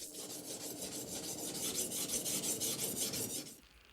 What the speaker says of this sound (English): He grinds the sword to check.